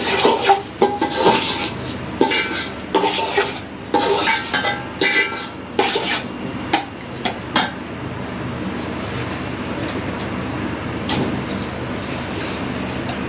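Pulao ingredients fry in a cooking pot as a spoon clanks and scrapes against the metal in a series of sharp knocks, then settles into a steady low sizzle.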